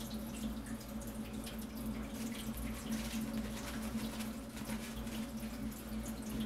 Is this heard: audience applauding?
no